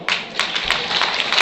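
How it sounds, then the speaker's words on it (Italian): Clapping at an outdoor Lega party chestnut festival in Gaiarine, a scattered round of hand claps with distinct individual slaps rising into a brief burst of applause. "Un applauso a Vania Gava"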